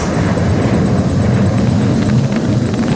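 At an air force display, a Sukhoi 30 fighter jet performs a tail slide, a loud, continuous engine roar that holds steady throughout.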